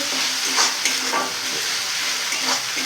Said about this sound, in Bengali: এবার মশলাটাকে একসঙ্গে এরকম করে নেব